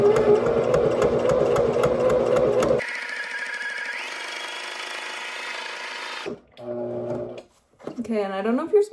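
A sewing machine stitching zigzag on old sheet fabric, heard as a close, rapid mechanical whir with a regular needle beat for a few seconds, then stopping, followed by clicks, handling and brief voice sounds.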